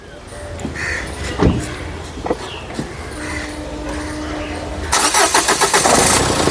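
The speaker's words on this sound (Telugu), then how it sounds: "సింగిల్ సెల్ఫ్లో కార్ స్టార్ట్ అవుతుంది" A 2017 Renault Scala RXL petrol car catches on the first crank, its starter whirring briefly before the engine fires and settles into a steady, close idle, preceded by a few clicks and thumps and some speech nearby.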